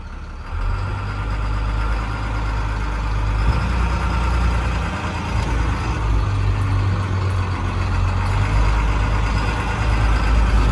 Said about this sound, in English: so I am gonna move the bus